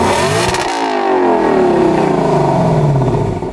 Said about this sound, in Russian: Отдельная история, это, конечно, запуск двигателя.